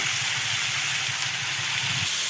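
Tomatoes with added salt sautéing in a pan for breakfast tomato chutney, giving a steady close sizzle and hiss with no talk.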